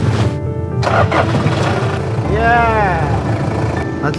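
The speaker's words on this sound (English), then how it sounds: "Now, we're going to try starting it." A vehicle engine starts in extreme cold in Oymyakon: labored cranking catches and the engine revs up with a rising whine, loud and close, while people talk over it.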